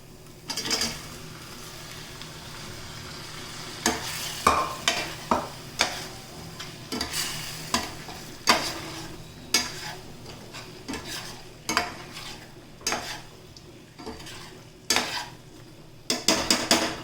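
Ivy gourd (dondakaya) frying in a pan, a low sizzle under repeated sharp clinks and scrapes of a spoon stirring against the metal at irregular intervals.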